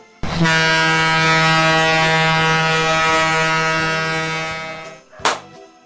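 A single loud, sustained horn blast, like a ship or air horn, holds steady for about five seconds and then cuts off, celebrating an NFL 49ers win over the Bears.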